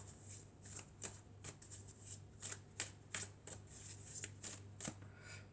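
Oracle cards are shuffled by hand in a quiet room, a run of crisp, rhythmic riffling snaps repeating roughly every half second, close and clear with no talk.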